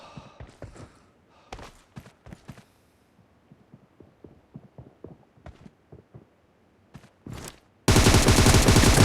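Video game gunfire in a one-versus-three team deathmatch: scattered shots and short bursts crackle through the first seconds, then a sustained loud, dense blast of fire fills the last second.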